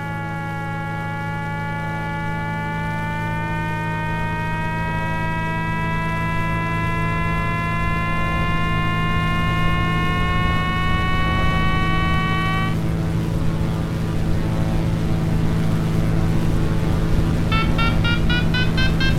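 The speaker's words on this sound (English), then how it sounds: "That beeping you're hearing is the variometer." A glider variometer in Flight Simulator X gives steady electronic beeping tones that rise slowly in pitch over a constant tow plane engine drone, cut off abruptly, then briefly resume near the end.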